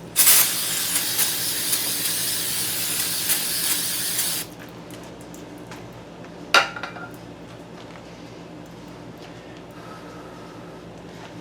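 A loud, continuous aerosol spray of assembly lube hisses for several seconds during a Chevy 5.3 engine rebuild, then cuts off, followed by a single sharp clink and quiet room tone.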